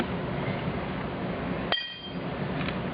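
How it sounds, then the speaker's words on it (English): A blade bolt on a 48-inch Scag commercial mower drops free and strikes metal with one sharp ringing clink, after a steady background hum. "Your bolt falls through."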